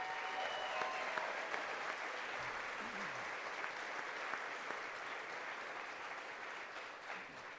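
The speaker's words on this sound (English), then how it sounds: "Give a big round of applause to Darren." An audience at a university football press event applauds the athletic director in sustained, even clapping that carries on for several seconds at moderate distance, with a faint voice briefly audible beneath.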